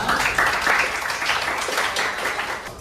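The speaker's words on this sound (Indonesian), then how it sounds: "Oke, tepuk tangan untuk kita semua." Clapping from a group of listeners at the close of a talk on education, a moderately loud, uneven patter that eases slightly toward the end.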